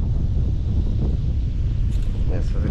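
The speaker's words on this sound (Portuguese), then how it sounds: "o vento aqui é tão forte que tá levando o caiaque" Strong wind buffets the microphone on a lake during kayak fishing, a steady low roar that fills the whole clip with a voice talking over it.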